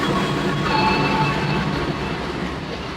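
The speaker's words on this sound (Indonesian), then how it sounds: "Ini ada kereta masuk dulu nih, Kargo Wilis, untuk keberangkatan dari Surabaya Gubeng menuju Bandung." Kargo Wilis passenger train pulling into Surabaya Gubeng station, a steady loud rumble of wheels and carriages rolling past close by, with a faint high squeal over the din and no talking.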